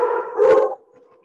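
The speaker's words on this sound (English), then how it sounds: "Can you hear the dogs?" A shop dog barking or howling indoors, one drawn-out loud bark-howl close by that fades into quiet, with no talk.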